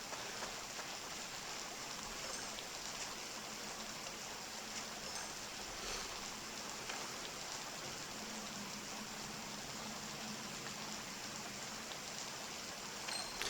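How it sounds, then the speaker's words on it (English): Rain falls during a fishing contest in a Harvest Moon video game, a faint, steady hiss of rainfall with no music or voices over it. "Yeah, no music, only rain."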